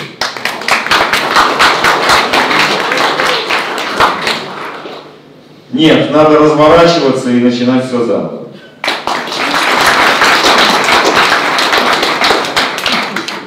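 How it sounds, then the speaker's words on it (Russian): Applause rises from the audience at a panel discussion on the roles of government and business in digital transformation. Dense, rapid clapping fills the start and end, and someone speaks briefly in the middle as the clapping pauses. "Бурные аплодисменты"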